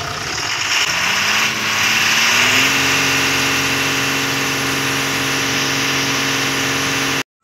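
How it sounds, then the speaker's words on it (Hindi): Diesel engine of an Ashok Leyland BS4 truck with an EDC fault is revved up from idle, the pitch rising and then holding at a steady, loud drone before cutting off abruptly. "अब थोड़ा रेस करके देखते हैं"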